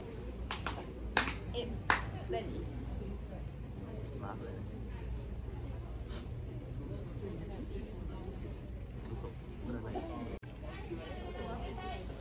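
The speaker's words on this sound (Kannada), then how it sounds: "ಒಮ್ಮೆ ಬೋ ಮಾಡಿ ಕಾಯಿನ್ ಹಾಕಿ 2 ಸಲ ಕ್ಲ್ಯಾಪ್ ಮಾಡಿ ಪ್ರೇ ಮಾಡಿ" Sharp hand claps, a quick pair and an earlier lone clap, ring out in prayer at a shrine on Enoshima Island, Japan, over steady background crowd murmur and voices.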